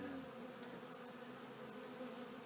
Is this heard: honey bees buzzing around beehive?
yes